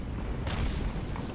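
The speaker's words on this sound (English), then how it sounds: "That's the sound of the other pieces exploding on their way through" Parts exploding during re-entry in the video game Kerbal Space Program: a continuous low rumbling roar with a sharper burst of crackling noise midway and another at the end, loud and close.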